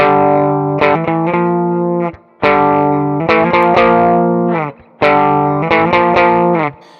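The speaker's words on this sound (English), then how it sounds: "It uses some distortion and a kind of talkbox effect." Distorted electric guitar chords from a song, with a talkbox-style effect, ring out in sustained bursts with short breaks between, punctuated by quick picked stabs, heavily effected and loud.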